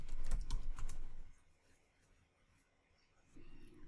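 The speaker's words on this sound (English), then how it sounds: "So let's type that command in." Commands typed on a computer keyboard for a Linux terminal, a quick burst of close keystrokes in the first second or so, then near quiet with a low hum returning at the end.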